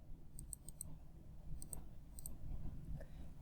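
Light clicking of calculator keys being pressed, a few quick taps in small clusters, faint and close against a quiet background.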